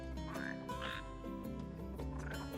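Red frogs croak in Final Fantasy XV, a series of close, throaty croaks in uneven bursts layered over a tonal game backdrop, with no talking.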